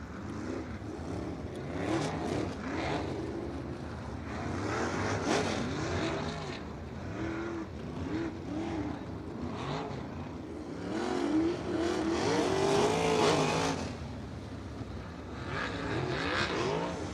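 USAC midget race cars roaring around a Lincoln Park Speedway track in Indiana, engines droning and revving continuously with rising and falling pitch as cars pass, a dense, steady racing din without talk.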